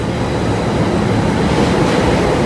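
A steady, loud rumble of a Hong Kong metro train, broad and roaring like a carriage interior at speed, constant throughout with no voices.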